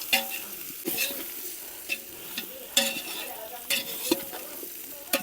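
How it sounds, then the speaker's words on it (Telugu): Country chicken coated in masala is stirred in a pan, with a steady sizzle beneath repeated scraping strokes of the spoon, loud and close, with no talking. "మసాలా వేసుకుని బాగా మిక్స్ చేసుకుందాం"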